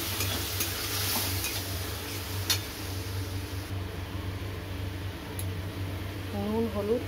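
Onion paste and tomato paste masala, cooked with kalonji, ginger-garlic paste, salt, turmeric and Kashmiri chilli powder, sizzles and fries in a pan with a soft steady crackle, a low hum and a few scraping stirs, while a voice speaks near the end.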